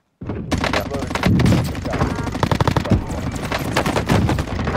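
Warzone video game gunfire: rapid, loud bursts of automatic shots and overlapping cracks that fill the whole stretch after a brief silent start, with a few heavier thuds among them.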